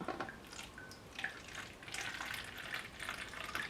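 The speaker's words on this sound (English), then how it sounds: "Just giving my measuring cup a rinse to fill this up." Faint tap water runs and splashes while a measuring cup is rinsed in a kitchen, a quiet continuous trickle with small irregular splashes.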